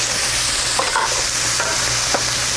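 Mapo tofu sauce ingredients, including black bean sauce, red pepper flakes and fermented black beans, stir-fried in a pan: a loud, steady sizzle broken by a few scraping stirs.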